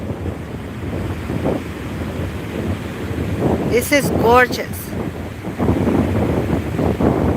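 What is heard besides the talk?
ocean waves breaking on the shore at Channel Islands dunes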